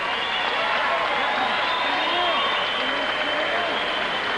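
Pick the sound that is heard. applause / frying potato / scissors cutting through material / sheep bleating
applause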